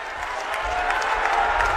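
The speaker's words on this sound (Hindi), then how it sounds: "गौरी शंकर घोष को जिता देंगे, जिता देंगे, जिता देंगे तो एक बार हाथ उठाकर ताली सब लोग बजाइए" Crowd at a political election rally in West Bengal clapping and cheering steadily, a dense wash of applause that holds throughout without a break.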